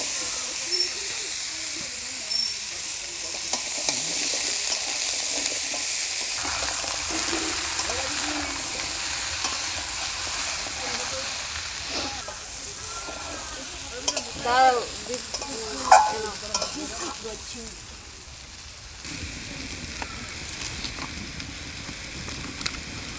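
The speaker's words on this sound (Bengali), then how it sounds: "শুধু কচু ভেজে নিলাম" Pieces of taro fry in oil left over from frying fish, giving a steady hiss and sizzle with stirring and clinks of a utensil, while a voice talks intermittently.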